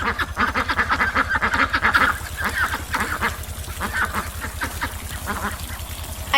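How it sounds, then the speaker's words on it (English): Ducks quacking loudly and continuously at a farm animal splash pad, a dense chorus of nasal quacks and honks with a steady rhythmic low pulse running underneath. "The ducks are splashing everywhere"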